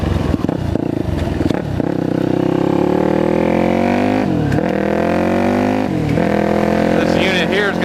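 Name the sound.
loud supermoto motorcycle with blown-out FMF slip-on exhaust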